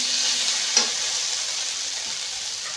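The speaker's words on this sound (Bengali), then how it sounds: "দিয়ে আবার একটু বেশ মশলাটা ভালো করে কষে নেব।" Masala spice paste for a taro and rohu fish curry is stir-fried in a pan, giving a steady close sizzle with a soft scrape of stirring partway through.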